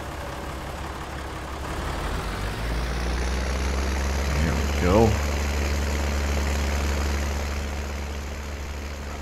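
A tractor engine in Farming Simulator 19 hums at a steady, low idle throughout, rising slightly near the middle, while someone speaks briefly over it.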